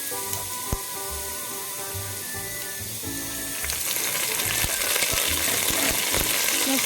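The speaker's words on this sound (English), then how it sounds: "let's add the crushed garlic and also the curry leaves" Crushed garlic and curry leaves hitting hot oil with cooked urad dal, a steady close sizzle that swells louder and more crackly partway through, with faint spattering pops and no talk.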